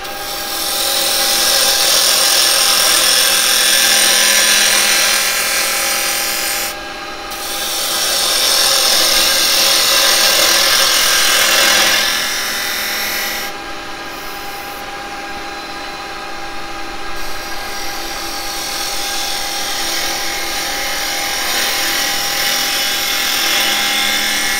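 Wood being turned on a lathe with a roughing gouge, a steady, loud rushing scrape that breaks off briefly twice and then resumes as continuous cutting.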